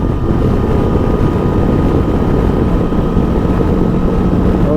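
Steady, loud wind roar buffeting the microphone while riding a Macbor Montana XR5 500 motorcycle fitted with a windscreen, a continuous low rumble with engine drone underneath and no talk.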